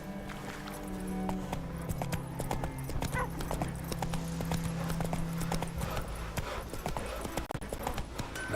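Roach, a horse in The Witcher 3, gallops with quick, repeated hoof clip-clops and occasional clinks over a humming game soundtrack, fairly close and moderately loud.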